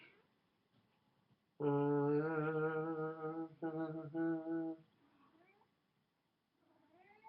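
A cat gives a long, loud, drawn-out meow close by, followed by a shorter meow after a brief break, with fainter mewing calls trailing off near the end.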